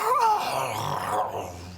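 A voice imitates a low, drawn-out groan for an eerie tunnel scene in a tabletop fantasy game, a close, wavering moan lasting under two seconds with no other talk over it.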